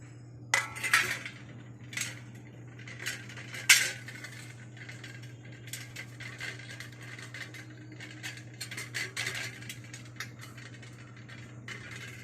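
A utensil scrapes and clinks against a metal plate coated with oil, out on a sunny rooftop, with a few sharp taps early on and softer scraping after, over a steady low hum.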